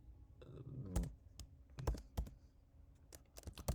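Keys tapped on a computer keyboard, close and quiet, in irregular bursts of sharp clicks with short pauses between them.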